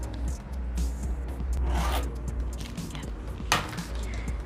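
Scissors snip through recycled fabric, cutting out a rectangle for bag fringe: close, rasping cuts in a few strokes over a low background hum.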